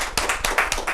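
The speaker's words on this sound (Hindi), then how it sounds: "एक तालियां तो बजनी चाहिए" Several close, sharp hand claps come in a quick, fairly regular rhythm at an icon meet held by a Rajasthani community group.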